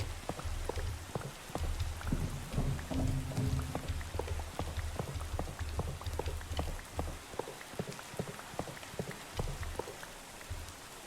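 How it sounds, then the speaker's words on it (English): Rain falls steadily in the OceanBlock game, a constant hiss of drops with sharp patters striking close by, heavier at first and easing slightly toward the end. "Ugh, raining."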